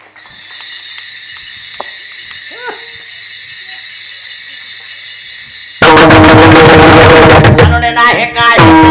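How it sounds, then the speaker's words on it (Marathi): Taal hand cymbals at a kirtan: after a stretch of faint, steady background, a loud, dense burst of clashing metallic cymbal strokes and drumming suddenly breaks in and carries on to the end. "टाळ"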